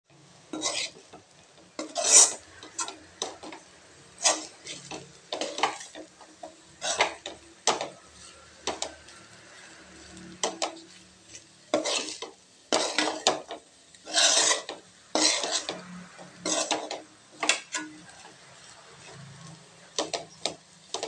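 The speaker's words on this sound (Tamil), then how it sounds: "இப்போ இதோட நல்லா கிளறி எடுத்துக்கலாங்க." Cooked rice with fresh peas being stirred and tossed in a pan, producing repeated close, rasping scrapes of a spatula in an uneven rhythm, with short gaps between the strokes.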